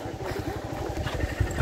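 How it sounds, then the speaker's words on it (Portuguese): Motorcycle engine running close by on a dam embankment at Barragem de Francisco Sá, Minas Gerais, a steady mid-pitched rumble with a few louder revving bursts near the end and no talk over it. "Essa moto desce de uma vez, me atropela aqui."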